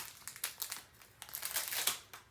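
Close crinkling of plastic packaging as a roll of quarter-inch score tape is unwrapped, a run of irregular crackles and rustles across the whole stretch with a louder burst near the end.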